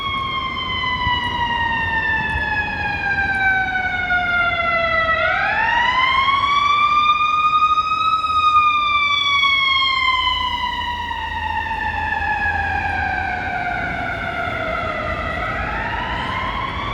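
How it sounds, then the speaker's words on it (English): An ambulance siren passes along a downtown Chicago street, its loud wail sweeping up and down in long cycles over steady traffic rumble, with no talk. "we had an ambulance coming"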